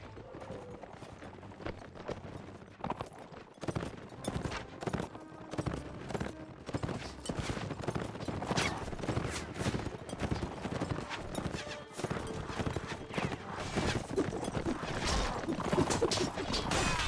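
Horse hooves clip-clop rapidly and repeatedly in a medieval battle video game, steady galloping thuds mixed with clashing combat hits, growing louder toward the end.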